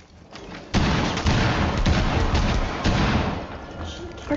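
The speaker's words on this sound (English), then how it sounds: "They're throwing grenades." Gunfire and grenade blasts in the game Rainbow Six Siege, a dense, loud barrage of booms and shots that runs almost unbroken for several seconds.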